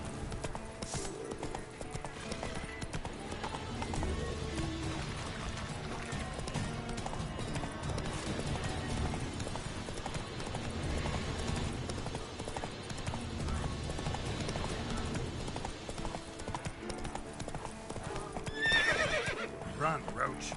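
Roach, the horse in The Witcher 3, gallops with steady rhythmic hoofbeats and occasional whinnies under game music, a voice talking over much of it.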